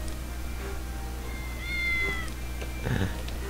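Cat meows from the video game Postal 2, a few short tonal cries standing out over a steady low game hum, with a busier burst near the end.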